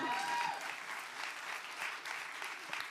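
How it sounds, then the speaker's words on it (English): Audience applause at a women's sports business summit, a steady, moderately distant wash of clapping throughout, with faint voices mixed in. "clap that up"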